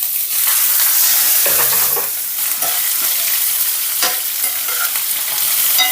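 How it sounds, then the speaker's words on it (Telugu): A medium chopped onion frying in a pan, a loud steady sizzle with a few scraping stirs and a brief clatter early on, close with no speech. "ఇప్పుడు ఇందులోకి ఒక మీడియం సైజు ఉల్లిపాయను కూడా వేసుకుందాం."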